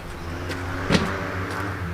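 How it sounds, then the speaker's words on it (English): A swapped engine in an RN46R, fitted with electronic ignition, cranks over with a steady, close mechanical whirr and one brief knock partway through. "I wanted to make sure it actually cranked, which it does."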